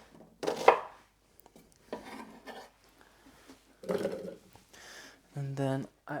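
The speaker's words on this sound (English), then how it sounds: "I'm just gonna cut an onion a bit coarse" A knife chops an onion coarsely on a cutting board in a few separate bursts of quick, sharp cuts, with pauses between them and some softer kitchen handling sounds, close and fairly loud.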